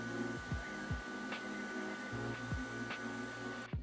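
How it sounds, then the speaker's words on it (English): A Sovol SV08 3D printer runs loudly with a constant fan-like roar, broken by regularly repeating whirring sweeps from its moving motors. "It does sound like a vacuum cleaner."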